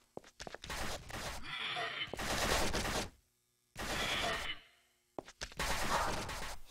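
Video game gunfire from an automatic weapon: loud rapid-fire bursts, one around two seconds long, separated by short silent gaps.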